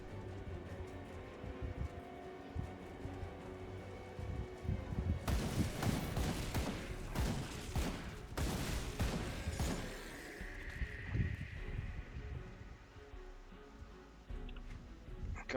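Rifle gunfire in the action RPG Grim Dawn, a dense burst of rapid shots and impacts over a few seconds amid game ambience, fairly loud and close, with no talking.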